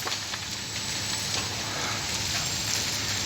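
Open fire burning near a residential building: a constant crackling, hissing roar heard from a short distance, steady and fairly loud throughout, with no voices.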